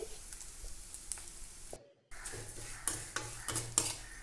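Dried prawns frying and being stirred in a pan for a Kerala-style pickle, with soft sizzling and scraping, clinking stirs at close range, and a short silent gap partway through.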